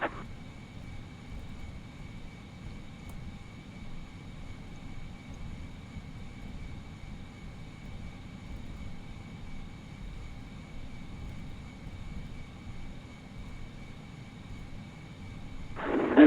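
An Airbus A320 on its takeoff roll at Christchurch in a flight simulator game, a steady loud engine roar with a constant high whine, building slightly toward the end, with no talk.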